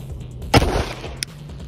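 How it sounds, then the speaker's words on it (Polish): A single sharp crack from an air pistol shot at a water bottle, followed by a brief splash and a faint later tick, then quiet. "co się stanie, gdy strzelimy do butelki z wodą"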